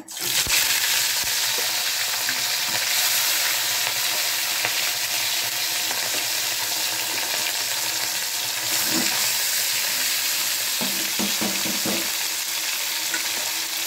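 Fish sizzling and frying steadily in hot oil for a fish curry, a dense continuous hiss with occasional stirring clatter, close and loud without speech.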